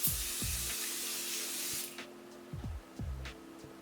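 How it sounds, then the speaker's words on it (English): A facial setting spray releases a continuous fine mist in one long, soft hiss, then stops, followed by a few faint clicks and small handling sounds. "it's one of those sprays with kind of a continuous mist"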